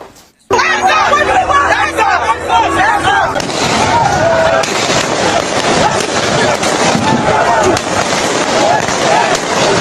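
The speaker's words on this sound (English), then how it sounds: "Sounds of gunfire have exploded on the streets in Nigeria's commercial capital, Lagos, as troops open fire on protesters there" Gunfire crackles on a Lagos street as troops open fire on protesters: dense, rapid sharp bursts and pops over a constant din of shouting crowd voices, loud and close throughout.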